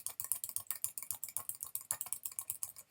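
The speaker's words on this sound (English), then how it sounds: "Let's go ahead and just type some stuff down the middle here" Someone types on a computer keyboard, a quick steady run of light, close key clicks with an even rhythm and no voices.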